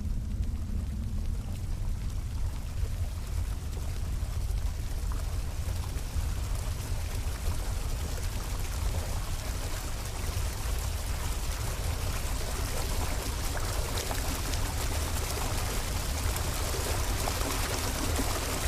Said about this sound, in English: I hear water now.